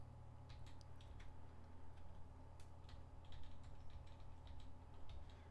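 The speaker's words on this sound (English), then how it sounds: "Now we'll type our characters." Characters being typed on a computer keyboard, a steady run of light, quick key clicks over a low background hum, fairly quiet and without speech.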